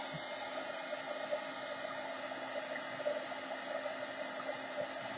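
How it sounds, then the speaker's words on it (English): A heat embossing tool blows hot air steadily while heat-setting spray on coffee filters, a constant breathy hiss throughout at close range. "I'm talking loudly over the embossing tool"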